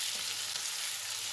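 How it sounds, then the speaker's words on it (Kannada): Masala fries steadily in a pan while it is being readied for jeera masala rice, a close, dense, continuous sizzle with no break and no voices. "ಈಗ ಹಸಿ ವಾಸನೆ ಕೂಡ ಹೋಗಬೇಕು, ಚೆನ್ನಾಗಿ ಫ್ರೈ ಆಗಲಿ ಇದು"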